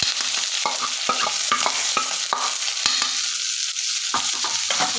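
Garlic and spices are sautéed in a pan for a large batch of rasam, producing a dense, constant sizzle close by, punctuated by rapid repeated clicks and scrapes of a stirring spoon.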